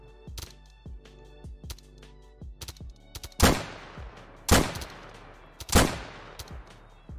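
Video game gunfire: a series of light, rapid shots, then three loud, heavy blasts about a second apart, each trailing off with a reverberant tail.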